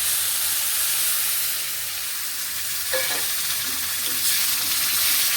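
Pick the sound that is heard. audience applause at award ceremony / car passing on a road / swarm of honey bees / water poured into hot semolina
water poured into hot semolina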